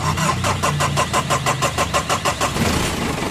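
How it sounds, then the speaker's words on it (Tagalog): A Mitsubishi Adventure engine cranks with a rapid, even starter rhythm and then catches into a steady, loud idle, close by, with no talk. "pa-start ko itong makina"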